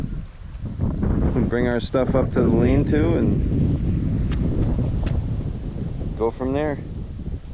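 Strong wind buffets the microphone beside a remote Adirondack bushwhack pond, a steady rushing roar throughout with people talking over it in two short stretches.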